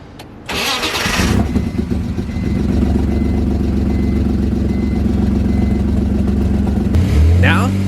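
A BMW engine, fresh fuel and a new battery fitted, cranks briefly and catches, then settles into a steady, close idle rumble that swells slightly near the end.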